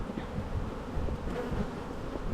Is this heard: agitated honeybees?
yes